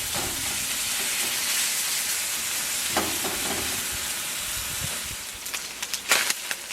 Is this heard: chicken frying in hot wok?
yes